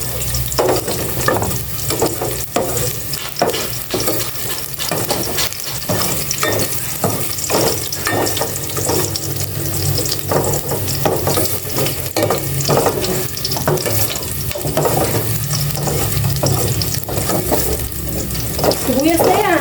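Onions and garlic sautéing in a home kitchen pan, a steady broadband sizzle with repeated stirring scrapes and clinks throughout, close and fairly loud, with occasional faint talk in the background.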